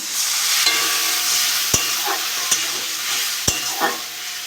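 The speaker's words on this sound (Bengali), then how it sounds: "একটা টমেটো কেটে রেখে সেটা দিয়ে দেবো ভালো করে কষে নেবো" Spice masala with tomato frying and being stirred in a pan for a pointed gourd dish, a steady close sizzle with a few sharp clinks of the spoon against the pan and scraping strokes, no voices.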